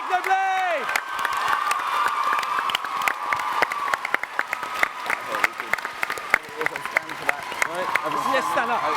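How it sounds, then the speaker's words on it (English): A convention panel audience at TwitchCon Amsterdam claps and cheers, a dense wash of applause with sharp individual claps and scattered shouts, while voices talk over it. "can we give an almighty round of applause so loud every corner of the globe?"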